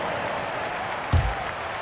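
Crowd applause inside a basketball arena during an NBA 2K26 game, a steady wash of clapping and crowd noise with a brief thump near the end.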